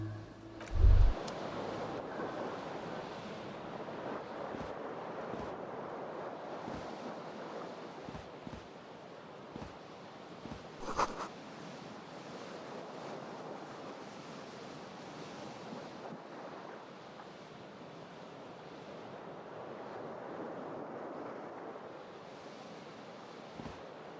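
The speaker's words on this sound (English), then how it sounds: "The cool wind gushes in." Cold wind gusts in a Disco Elysium scene, a steady, broad rush of air swelling and easing over about twenty-four seconds, with a couple of brief knocks and no talk.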